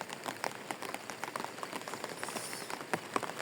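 Heavy rain falling outside, a continuous patter with many sharp, irregular drop impacts and splashes close by on hard surfaces, no voices.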